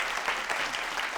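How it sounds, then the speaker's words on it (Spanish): An audience at a book launch presentation applauds for a birthday: a dense, steady wash of many hands clapping at once, loud and continuous throughout, with no speech over it. "le vamos a dar un aplauso porque es el cumpleaños"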